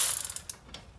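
A ratchet on a Toyota Camry loosens the brake caliper bolts during a pad and rotor replacement, giving a brief run of quick, faint pawl clicks up close.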